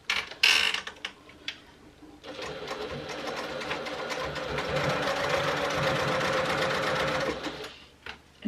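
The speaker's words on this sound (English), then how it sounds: "I'm going to sew it down at about 1/2 inch." Sewing machine stitching bag lining near an accent piece with a half-inch seam, a few short starts and handling clicks, then a steady close whirring run of about five seconds that winds down.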